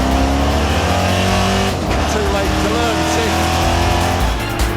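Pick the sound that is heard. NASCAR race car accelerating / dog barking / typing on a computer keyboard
NASCAR race car accelerating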